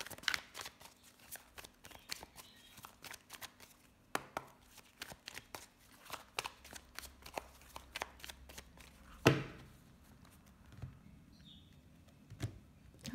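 A deck of Lenormand cards is handled and cut, giving a quiet close run of crisp riffling clicks and snaps with a louder slap near the middle.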